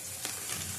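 Ridge gourd pieces fry lightly in a little oil with mustard powder, a steady close sizzle with a faint stir-like scrape, brief and fairly quiet.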